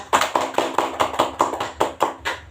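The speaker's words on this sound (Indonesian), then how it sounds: "Tepuk tangan dulu buat Alia." A classroom of students claps together in a steady, even rhythm for a classmate, about eight sharp, close claps in a little over two seconds with no talking.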